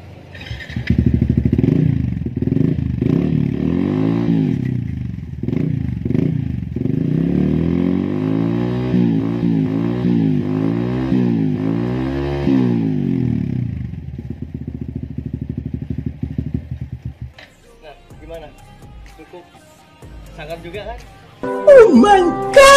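A single-cylinder Yamaha V-xion motorcycle with a modified exhaust idles and blips close by, giving a loud, throbbing, pulsing exhaust note with repeated revs, followed by faint talking at the end.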